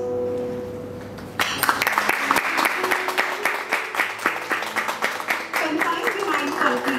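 An audience applauds at a school award ceremony honouring creative writing competition winners. A steady, dense clapping starts abruptly after a quiet opening and sustains as a loud, even rush to the end, with faint tonal sounds beneath.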